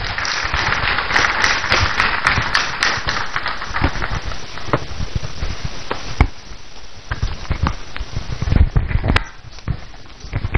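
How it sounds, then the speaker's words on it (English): An audience at a university inaugural lecture applauding loudly, dense continuous clapping with a few sharper claps standing out, sustained throughout without talk. "Let's welcome them with a round of applause."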